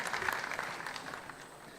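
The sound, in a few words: audience applause for President Nana Addo Dankwa Akufo-Addo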